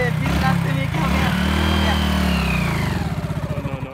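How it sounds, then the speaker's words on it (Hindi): A motorcycle engine runs close and loud under people talking, its steady drone turning into uneven, pulsing sputters toward the end as it falters and stalls on the road. "ये बाइक थक गया क्या, स्टॉप हो गया क्यों, बाइक खराब है ये"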